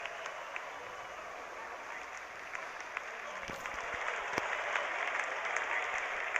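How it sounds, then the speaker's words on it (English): A cricket video game crowd applauds and cheers at the start of a Test match innings, a broad, steady roar that swells slightly toward the end, heard from a distance without talk. "greeted with a loud cheer from the crowd"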